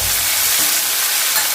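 A pan of bottle gourd (dudhi bhopla) sabzi with tomato and a little coriander being stirred: a loud, steady, close sizzle with faint scraping underneath, with no voices.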